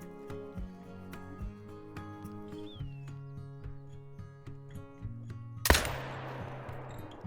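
A single loud rifle gunshot rings out in the hunting game Call of the Wild, a sharp close crack with a decaying tail, set against a steady tonal game ambience and a brief whistling call.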